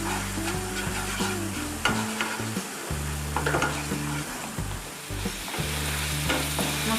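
A spice paste of ginger, garlic and onion frying for an Assamese fish curry, a steady sizzle with rhythmic scraping and stirring strokes in the pan, close and unaccompanied by talk.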